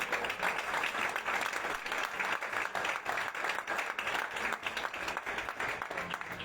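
Sustained applause from a church congregation, steady dense clapping that fills the space without pause, with faint voices mixed in.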